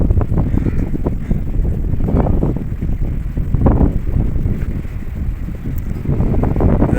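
Wind rushes continuously and loudly across the microphone beside a bridge at a bund over open water under rain clouds, a low rumbling buffet with gusts swelling and easing.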